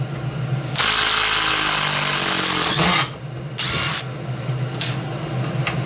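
A DEWALT 12V XTREME brushless impact driver whirs loudly and rattles as it drives fasteners, one long burst followed by a shorter one and a brief blip, close up.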